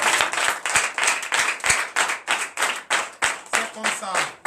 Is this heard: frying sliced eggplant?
no